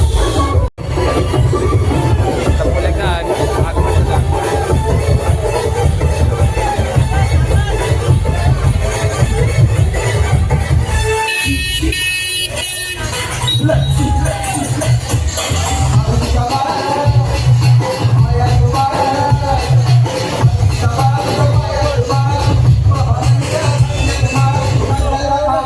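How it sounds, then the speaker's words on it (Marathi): A festive crowd fills the market bazaar at Tala in the run-up to the Ganesh festival, a loud dense babble of many voices with a brief drop in the middle. "जल्लोष चालला इकडं फुल जल्लोष."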